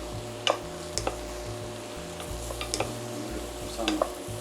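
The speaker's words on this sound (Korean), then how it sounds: "그럼 이제 여기에 이제 가지를 넣고 뭐 볶아줄 거예요." Eggplant stir-frying in a hot frying pan over high heat, soft sizzle under irregular clicks and scrapes of a utensil against the pan, fairly quiet and close.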